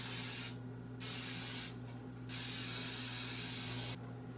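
Pam cooking spray hissing onto a rimmed baking sheet in a home kitchen, three short bursts and one longer spray, close and clear over a low hum, with no talking.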